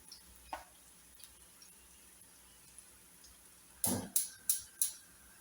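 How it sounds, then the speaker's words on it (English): Food pieces dropped into hot oil, with a faint background sizzle and then a cluster of four sharp hissing bursts near the end as each piece hits the oil. "just dropping them in the hot oil, like that, like that"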